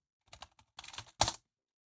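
Several quick keystrokes tap on a computer keyboard as a username is typed at a Linux login prompt, short clustered clicks with brief pauses, close and otherwise silent.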